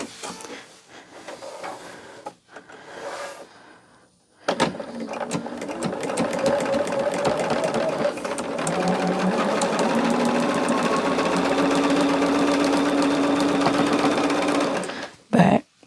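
A sewing machine starts up after a few quiet handling sounds and stitches in one long, steady, loud run before stopping abruptly.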